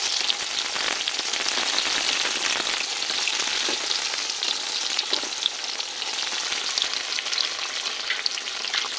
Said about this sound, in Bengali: সামান্য ব্রাউন হলে আমি বেগুন ভাজাটা উঠিয়ে নেব।